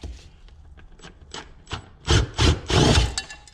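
Extractor bits drilling into a stuck bolt on a Raptor 350 ATV: three loud, grinding bursts of drill noise around two seconds apart, following quieter tapping and scraping, with no talk.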